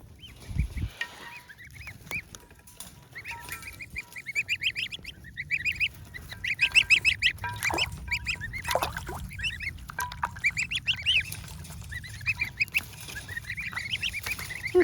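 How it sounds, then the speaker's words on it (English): Several geese honk repeatedly outdoors in an Alaskan summer, a busy overlapping chorus of nasal calls at close to moderate distance, rising and falling over a low background rumble. "Silly geese."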